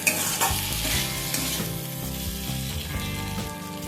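Fried pointed gourds being stirred into a cooking spice paste in a pan, a steady sizzle with scraping strokes of a spatula running continuously and close, with no talk over it.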